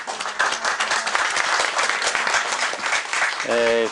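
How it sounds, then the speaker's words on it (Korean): An audience at a 2019 Jeju Forum session on North Korea's economy and inter-Korean cooperation applauds with dense, continuous clapping, loud and close, and a brief tonal sound comes in near the end. "박수 한번 보내주십시오."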